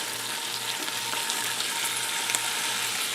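Ground beef and potatoes sizzling in a frying pan: a steady, dense crackling hiss that goes on without pause, close up, with no voices.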